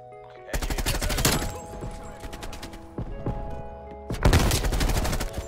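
Groza rifle firing in Black Ops Cold War, loud rapid bursts of automatic gunfire with sharp cracks, a pause with scattered shots, then another dense volley near the end.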